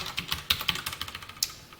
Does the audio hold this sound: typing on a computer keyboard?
yes